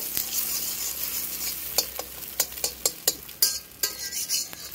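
A spoon stirs and mixes egg tadka in a hot pan, giving sharp, irregular scraping clicks over a soft, steady frying sizzle, close and fairly quiet.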